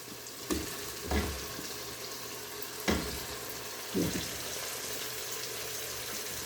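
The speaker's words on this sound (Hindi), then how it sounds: "अब हमने शलजम को भी गोश्त के मसाले में अच्छी तरह से भून लेना है।" Turnips fry in mutton masala in a pan with a soft, steady sizzle. A few dull knocks of stirring come through at a low volume.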